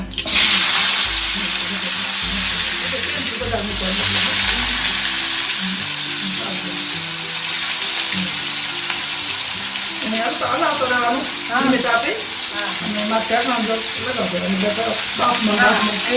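Potato pieces frying in oil for a sabzi after a tempering with asafoetida, a steady close sizzle throughout, with crackling bursts and scraping stirs in the second half; some musical tones and faint voice mixed in.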